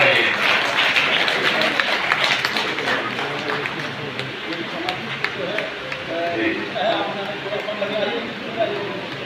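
An audience at a school function in Rohini claps steadily for several seconds, a dense patter of many hands close by, while a voice speaks over the applause.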